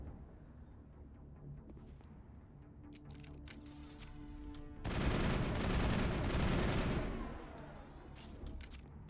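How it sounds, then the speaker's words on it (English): A shotgun fires in the sci-fi action game Mass Effect: sharp shots crack over a low ambient hum, building into a loud, dense volley for a couple of seconds before fading back to quieter background sounds. "Okay, that's a shotgun."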